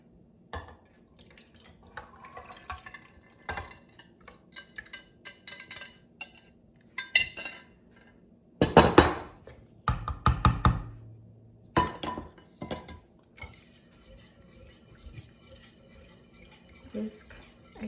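Whisking milk and yogurt in a bowl, a whisk clinking and tapping against the sides in quick irregular bursts, louder stretches of rapid scraping strokes in the middle, close up.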